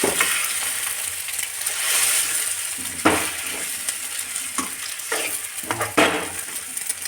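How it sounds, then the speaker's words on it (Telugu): Egg fried rice sizzles loudly and continuously in a pan while a spatula stirs and scrapes through it, with sharp knocks against the metal every second or so; close, with no speech. "పొడిగా అయ్యేంత వరకు కలుపుకోవాలి మంచి కలుపు"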